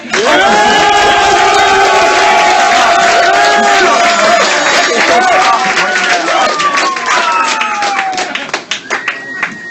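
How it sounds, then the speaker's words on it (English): Loud crowd cheering and clapping at a live comedy roast show, with whoops and shouts over dense applause that fades near the end. "Clap it up for Big Jay."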